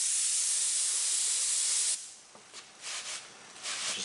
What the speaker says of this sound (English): I'm going to spray on the plastic and then dab it on